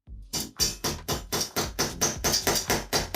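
A steady series of about eleven sharp hammer taps striking an anchor into concrete, evenly spaced and fairly loud, with no talking.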